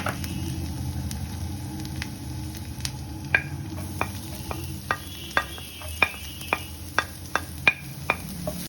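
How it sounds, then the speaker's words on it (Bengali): Chopped ginger and garlic fry in oil left from frying paneer, giving a soft, constant sizzle under a regular series of crisp spoon taps and scrapes against the pan. "আদা আর রসুনটা একটু ভাজা ভাজা হয়ে গেলেই"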